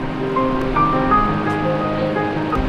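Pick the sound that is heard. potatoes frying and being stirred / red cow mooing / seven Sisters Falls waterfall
seven Sisters Falls waterfall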